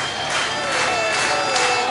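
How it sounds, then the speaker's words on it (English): A large crowd at the 2011 World Touring Car Championship round in Hungary roars and cheers continuously, with steady tonal blasts of air horns sounding through the noise. "Probably can barely hear themselves. The air horns and the crowd."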